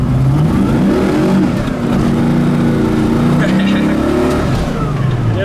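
A 1973 Camaro restomod's engine revs hard and climbs in pitch as it accelerates and breaks its tires loose, loud and close, with a rough, sustained roar throughout.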